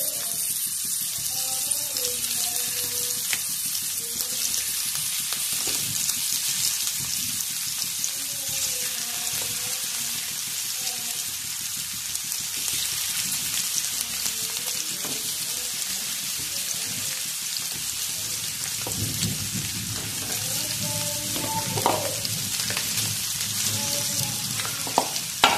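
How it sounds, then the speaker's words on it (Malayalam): Fish pieces spiced with kanthari chilli fry in a pan, a continuous close sizzle and crackle with occasional clinks as pieces are added one by one, no voices. "ഇനി ഇതിലേക്ക് നമുക്ക് മീൻ ഓരോന്നായിട്ട് ഇട്ട് കൊടുക്കാം"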